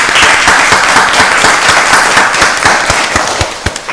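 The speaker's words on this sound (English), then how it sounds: "Let's give the director another round of applause." Loud round of applause from the audience at a county board of commissioners meeting, dense crackling claps close to the microphone that stay strong before thinning out at the end.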